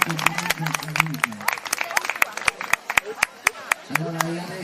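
Crowd applause and clapping at the Sa Cursa de sa Pudda horse race in San Basilio, steady sharp claps from a nearby audience, with an announcer's amplified voice heard intermittently over them.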